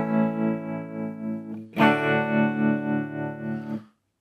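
Guitar through a modulation pedal with depth cranked up in tap tempo mode, sustained distorted chords warbling with deep chorus-like wobble, a brief gap before a second loud strummed chord rings out and cuts off.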